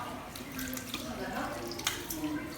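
A tap runs steadily while hands are rinsed up to the elbows at a sink in a clinical training setting, with splashing water under a voice.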